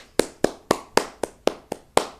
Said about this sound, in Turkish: Yani alkışlayalım